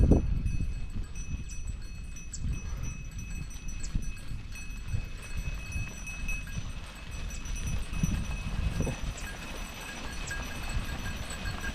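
A flock of sheep moves past, hooves clip-clopping in a steady shuffling patter with occasional bell-like clinks over low outdoor rumble, fairly close and without speech.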